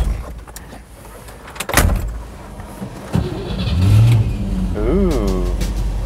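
A 1956 Packard 400 pulls away: a door thuds, the engine revs up and settles into a steady low drive, close and prominent, with a voice briefly speaking near the end.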